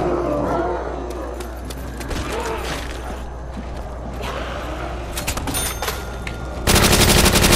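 An STG assault rifle fires in the Nazi Zombies video game amid scattered game noise and thuds, ending in a loud, dense burst of rapid automatic fire.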